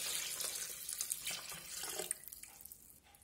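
Water pours into a Monsieur Cuisine Smart food processor jar over tomato and sweet paprika, a steady splashing, running-tap stream that stays fairly loud, then tapers off near the end with no talk.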